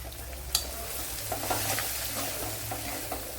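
Spices and asafoetida fry in hot oil in a pan while being stirred, giving a steady close sizzle with soft scraping clicks throughout.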